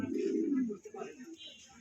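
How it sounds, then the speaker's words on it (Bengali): Pigeons at a pigeon farm coo with low, soft, rolling calls that are strongest in the first second and then fade into scattered quieter murmurs, with people talking nearby. "এখানে তিন পিস কবুতর আছে"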